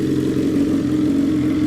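A BMW S1000XR motorcycle's exhaust running steadily at a low, even idle, a close and continuous engine drone with no revving.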